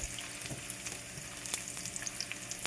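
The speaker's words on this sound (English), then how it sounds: "Make sure you tend to your garlic and not burn them" Garlic frying in hot oil in a pan, a steady close crackling sizzle with scattered sharp pops and occasional stirring scrapes, fairly quiet and without talk.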